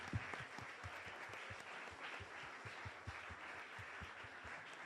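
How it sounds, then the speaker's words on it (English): A symposium audience claps together in a steady, dense patter of many hands, fairly faint and distant, continuing evenly throughout with no speech over it. "Look at somebody now and clap them."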